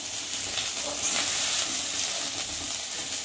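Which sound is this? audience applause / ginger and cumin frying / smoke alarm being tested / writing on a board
ginger and cumin frying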